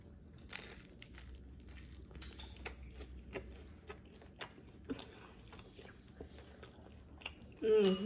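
Crunchy chewing while eating spicy miso ramen, soft irregular bites and crackles close to the mic at low level, with a louder burst near the end.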